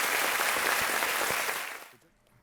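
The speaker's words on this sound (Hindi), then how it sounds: "तालियों के साथ इनका स्वागत।" A studio audience on a televised quiz show applauds to welcome a contestant and her father, a dense, loud burst of clapping that fades out near the end.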